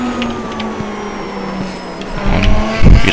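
A race car on a French track accelerates hard, its engine note rising close and loud with a rough burst of throttle near the end.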